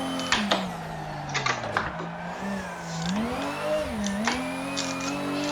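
A drift car's engine in the racing sim Formula Sim Drift, on a Seattle track, drones steadily with the pitch rising and falling as gears change, and sharp clicks and ticks come through over the engine note.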